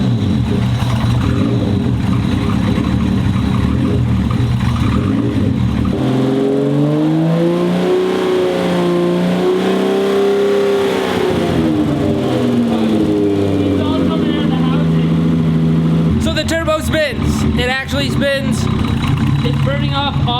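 A car engine revving and holding under load after a home turbo rebuild, the rising and falling whine of the spooling turbo audible over a steady engine drone, loud and close, with a burst of sharper mechanical noise near the end.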